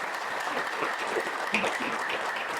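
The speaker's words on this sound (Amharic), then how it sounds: "አንዴ እስቲ ለብሌን አጨብጭቡላት" Audience applause at a book launch, a steady patter of many hands clapping for under three seconds, moderately loud and even, with no talking over it.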